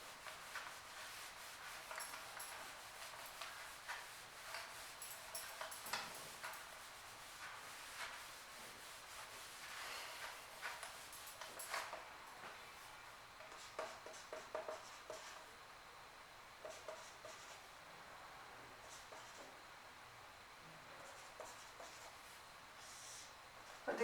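Pen or pencil writing history notes on paper: a faint, steady rubbing scratch continuing for the whole stretch, close but quiet, with small bursts of firmer strokes and no talking.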